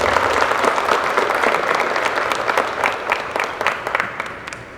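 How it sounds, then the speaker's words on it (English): Applause for graduates at an Indian cadet police graduation ceremony: sustained crowd clapping from an indoor audience, dense and even, gradually thinning toward the end. "please give yourselves a round of applause for your accomplishment"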